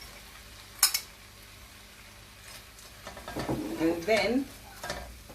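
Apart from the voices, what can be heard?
rice added to sauteed vegetables in a hot pan for fried rice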